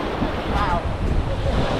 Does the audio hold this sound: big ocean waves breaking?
yes